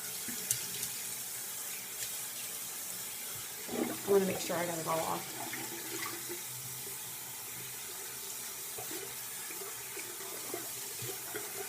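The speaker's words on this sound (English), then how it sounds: "I'm just going to splash water just to get it off my face." Tap water splashes at a bathroom sink as a face is rinsed during a skin care routine, a short burst of splashing and running water near mid-clip over a steady faint background, with a brief spoken remark.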